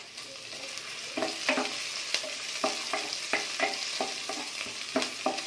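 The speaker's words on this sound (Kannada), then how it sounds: "ಚೆನ್ನಾಗಿ ಈಗ ನಾನು ಫ್ರೈ ಮಾಡ್ಕೊತೀನಿ." Chopped green chili and small onion frying in a pan for chicken sambar, with a steady close sizzle broken by repeated scraping stir strokes of a spoon against the pan.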